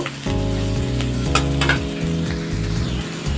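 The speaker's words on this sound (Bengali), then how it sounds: "উচ্ছেগুলো আমার হালকা করে ফ্রাই হয়ে এসছে আর একটু বেশি করে ফ্রাই করে নেব" Bitter gourd pieces fry in a pan with a loud, continuous close sizzle and crackle, stirred now and then, with no talking.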